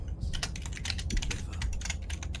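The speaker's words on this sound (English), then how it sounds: "All I can hear is you typing." Quick, uneven clatter of fingers typing on a computer keyboard, close and fairly quiet, with short pauses between the bursts of keystrokes and no voices.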